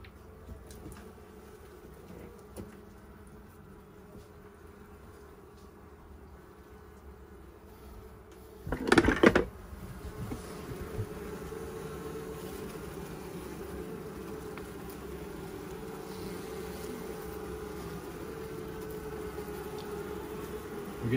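Honey bees hum softly in an opened hive with comb built all the way to the bottom, a faint steady buzz broken by one brief loud clatter partway through.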